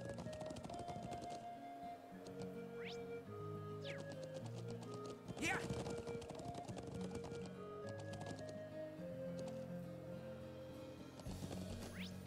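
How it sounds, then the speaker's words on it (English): Game horse in Trails of Cold Steel galloping, quick repeated hoofbeats under continuous background music, with a brief louder burst midway and some light sweeping effects. "The horse just can't jump."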